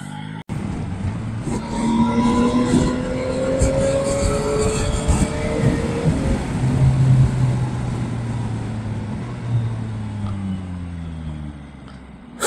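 An Audi engine revs nearby on a road, rising and falling in loud sweeping pitch for several seconds, with traffic noise around it and a distant drone fading out near the end.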